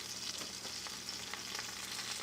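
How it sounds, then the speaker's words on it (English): A blackened Cajun steak fries in a pan with a dense, steady sizzle and crackle, loud and close, with small pops scattered through and no voices. "I flip it over. I'll do that 2 or 3 times."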